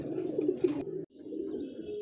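Pet pigeons coo in hot weather, giving low, throaty, bubbling calls close by that run continuously, break off abruptly and then resume, with no talking.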